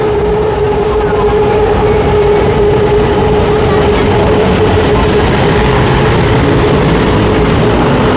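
A train rolls past close by near the MBK skywalk in central Bangkok, a steady loud rumble with a sustained tonal whine running through the whole stretch.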